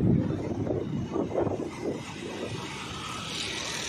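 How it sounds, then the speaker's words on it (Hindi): Gusty wind buffets a microphone outdoors in Dubai on a cloudy day, a loud rumbling roar that swells and eases in uneven bursts. "हवा भी चल रही है"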